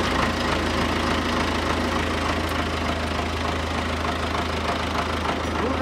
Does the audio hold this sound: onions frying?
no